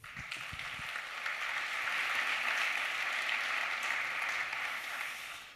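An audience claps loudly and steadily for Renaud Lagrave at the official opening, a dense, sustained round of applause lasting several seconds that swells slightly in the middle and tapers off at the end.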